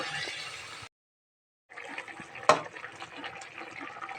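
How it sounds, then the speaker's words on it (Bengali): Water is poured into a pot of singi fish curry cooking with several vegetables: a steady splashing pour, a brief pause, then more pouring with a sharp clink partway through, fairly close and with no talk. "এখন আমি ঝোলের পানি দিয়ে দেবো"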